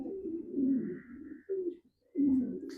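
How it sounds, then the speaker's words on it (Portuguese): Racing pigeon held in the hand, giving low cooing calls in three close, moderately loud bursts with short pauses between, alone without talk. "Vocês podem observar a pomba"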